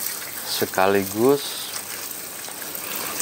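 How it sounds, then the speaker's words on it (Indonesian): Water runs and splashes steadily over a freshly potted imported Aglaonema, a soft continuous gush heard under a brief spoken word. "Setelah kita tanam, kita siram sampai ngocor"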